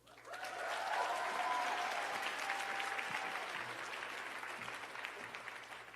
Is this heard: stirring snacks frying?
no